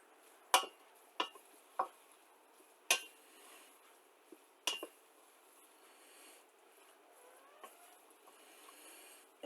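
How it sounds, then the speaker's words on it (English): A utensil scrapes and knocks against a pan while soy sauce is stirred into food, a series of sharp metallic clinks spaced irregularly over quiet sizzling. "Stir this around a little bit."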